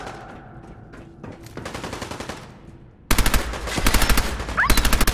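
Rapid machine-gun bursts from Fallout 4 erupt loudly halfway through, hammering in quick regular volleys after a quieter stretch of faint game ambience and scattered sounds.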